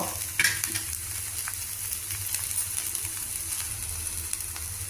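Bitter gourd pieces fry in a pan with a steady, even sizzle and occasional stirring scrapes, close and moderately loud throughout with no talking.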